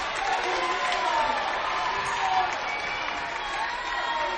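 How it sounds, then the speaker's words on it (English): A high school boys varsity basketball crowd in the Northwest gym erupts after a dunk off an interception, with steady loud cheering and applause sustained throughout, dense and close with scattered shouts. "The Northwest crowd comes to life after the dunk."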